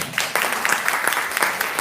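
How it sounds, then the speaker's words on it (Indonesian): Audience clapping at a seminar session in Surabaya, a dense, moderately loud patter of many hands with a few sharper individual claps, no talk over it. "Tepuk tangan dong."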